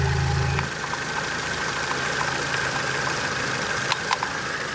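A 2.5-liter engine in a 1998 Ford Contour idles with a steady, even hum and faint ticking, heard close up and alone after a brief lower rumble at the start.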